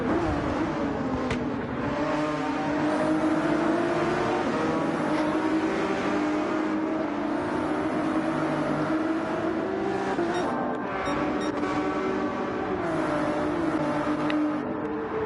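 Porsche and Ferrari race cars in a racing game drone steadily with layered engine tones that rise and fall together as a pack battles closely, loud and continuous with no talking.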